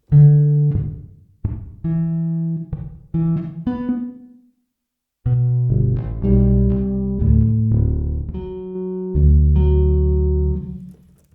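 Deep precision bass patch from a keyboard, first short plucked notes with gaps, then longer sustained low tones and a few melodic runs, played alone.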